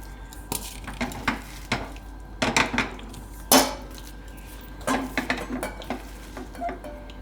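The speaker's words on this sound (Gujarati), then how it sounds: "અને આને આપણે બીજા વાસણમાં કાઢી લેવું, એટલે ઠંડુ થઈ જાય." Cooked beetroot mixture being scraped out of a pot into another vessel, a series of close metallic clanks, scrapes and knocks of utensils in irregular bursts, fairly quiet, no talking.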